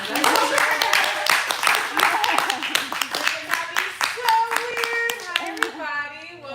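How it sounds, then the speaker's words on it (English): A spoken word poetry event audience claps loudly and steadily for several seconds, with some cheering voices mixed in, tapering off at the end. "make some type of clapping noise or something"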